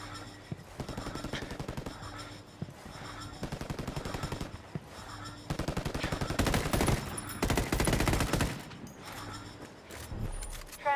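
Gunfire in the Ghost Recon Wildlands video game, with bursts of automatic rifle fire in rapid rattling strings that stop and start again. They grow denser and louder toward the middle, and single shots crack in the gaps.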